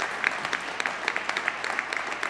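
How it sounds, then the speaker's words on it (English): Audience applause at a hydrogen hub announcement event, a moderate, even patter of many hands clapping with crisp individual claps standing out, steady for a couple of seconds and heard somewhat at a distance. "So let's have a round of applause."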